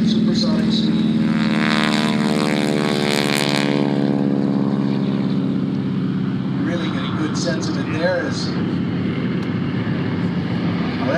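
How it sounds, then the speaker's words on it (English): Several SNJ and T-6 propeller trainers, 600-horsepower radial-engine warplanes, take off at an airshow in Geneseo, a loud sustained droning engine roar with rising harmonic tones that swells early and then steadies, with crowd and announcer voices mixed in. "There is SNJ and T-6 takeoff."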